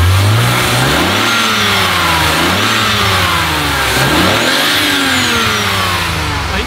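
A used car's engine revs hard and repeatedly, rising and falling in pitch through several throttle blips, loud and close with no talking.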